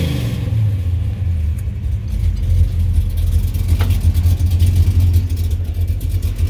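A 1970 restomod Chevelle with a crate motor and five-speed runs with its exhaust cutouts open, giving a loud, steady, deep idle rumble close by with a faint rev swell.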